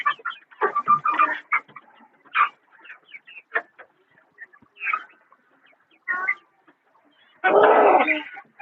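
Desi laying hens, including a white one close to laying, cluck in short scattered bursts at a village poultry farm, ending with a louder, fuller squawk nearby.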